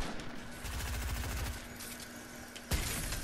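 Gunfire from a shotgun in the Fortnite video game, heard as a dense run of loud shots with a sharper blast near the end, no talk over it.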